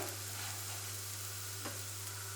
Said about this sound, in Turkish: Güzelce kızartacağım bunları. Yavaş yavaş kızarmasını sağlıyorum.